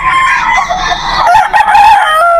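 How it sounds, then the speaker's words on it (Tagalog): Roosters crowing at a poultry market in Bocaue, Bulacan, loud and close, with overlapping drawn-out calls and a second crow rising near the end. "Tatlong manok."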